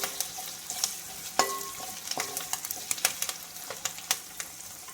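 Curry leaves crackling in hot oil for beef pickle, a continuous sizzle broken by frequent sharp pops and spatters, close and fairly quiet, with light stirring sounds.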